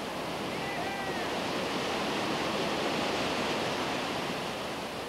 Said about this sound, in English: These climate-free waves break in the middle of a Norwegian pine forest.